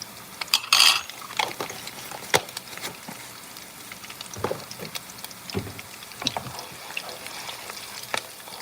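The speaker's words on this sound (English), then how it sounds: "So I just fried the onions, and now I'm adding powder pepper." Onions frying in a pan with pepper powder just added, a continuous close sizzle with frequent scraping and stirring clacks from a utensil against the pan.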